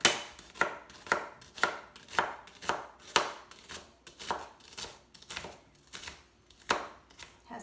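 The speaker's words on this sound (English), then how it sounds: "Next I'll chop an onion." Chef's knife chopping an onion on a cutting board while making guacamole, about a dozen crisp, evenly spaced strikes in a steady rhythm, close and clear, no talking.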